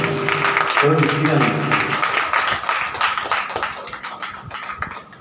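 A church congregation claps hands together during worship, a crowd of many rhythmic claps beneath a loud voice, with the clapping thinning toward the end.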